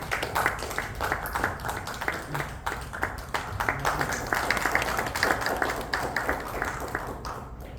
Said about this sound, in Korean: 우리 앞으로 나와주실 때 박수 부탁드립니다